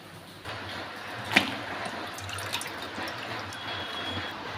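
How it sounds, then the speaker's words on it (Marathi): Spinach leaves being washed in water, soft splashing and dripping close by with a single sharper splash early on, fairly quiet and without talk. "ते उकळी येईपर्यंत तोपर्यंत पालक धुवून घेऊ"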